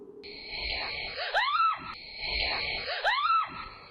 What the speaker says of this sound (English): absolutely terrified and screams and hurries back inside